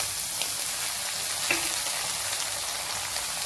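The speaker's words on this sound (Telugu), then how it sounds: "ఇప్పుడు ఉల్లిపాయలు, పచ్చిమిర్చి, కరివేపాకు వేసుకుందాం. ఇవి కూడా మంచిగా వేయించుకోవాలి." Continuous loud sizzle of onions, green chillies and curry leaves frying in oil in a pan for ridge gourd curry, close and steady with occasional faint stirring clinks and no talking.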